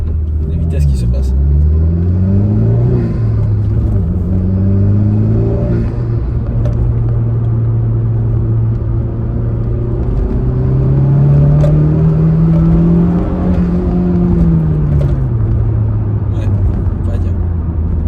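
A Honda Civic Type R FK2 engine droning steadily while driving, its pitch rising and falling through the gears with a low rumble, heard from inside the car with someone talking over it.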